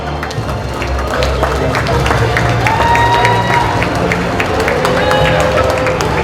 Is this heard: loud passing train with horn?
no